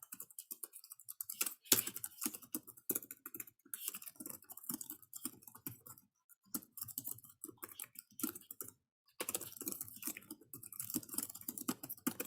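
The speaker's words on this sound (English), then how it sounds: "At this point, I'm just typing whatever so that you can see what it looks like." Typing on a computer keyboard, close and quiet, in bursts of rapid key clicks separated by brief pauses.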